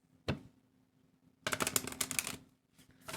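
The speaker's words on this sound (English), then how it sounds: "let's shuffle these cards" Tarot cards are shuffled close up, with a quick riffle snap, a pause, then a longer run of rapid papery flicks and a final short burst, quiet and free of talk.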